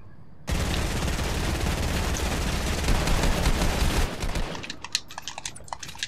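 Dense, continuous rapid gunfire in Fortnite runs loud for about four seconds, then thins into scattered sharp clicks and shots near the end.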